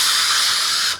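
A cologne or deodorant spray fires in one loud, steady hiss lasting about a second, close up, then cuts off, with no talking.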